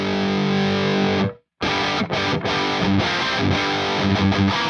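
An electric guitar played through an Axe-Fx III Diezel VH4 blue amp model sounds heavily distorted, with sustained chords, a short silent break, then chugging palm-muted riffs with clipped stops.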